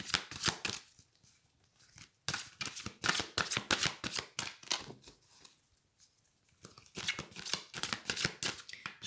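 Tarot cards are shuffled in quick, crisp riffling bursts, pausing briefly between rounds, close and fairly quiet.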